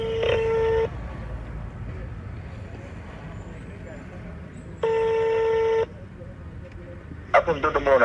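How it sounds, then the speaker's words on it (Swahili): A ringing or dialing telephone, steady electronic tone bursts with long pauses between them, then a quick series of keypad beeps at the end, heard over a low rumble of traffic. "Hapo mtoto mbona unapiga sana simu?"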